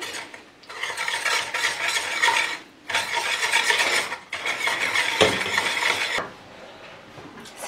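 A wire whisk beats honey cake batter of flour and eggs in a bowl, a steady close scraping swish in long continuous bursts broken by short pauses, with no talking.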